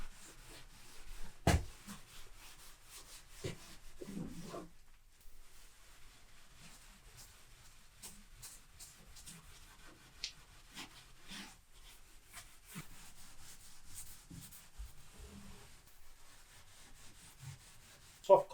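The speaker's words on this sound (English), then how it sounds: "Soft copper bristle brushes, they're really good for this sort of thing." A soft copper bristle brush strips old shellac from a tongue-and-groove wooden door with faint, intermittent scrubbing strokes, broken by a few sharper knocks and rubs, quiet and close, with no talking.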